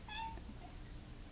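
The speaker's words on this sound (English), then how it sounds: "the cat wants to get out" A cat gives a single short meow, wanting to be let outside, fairly faint against a steady background hiss.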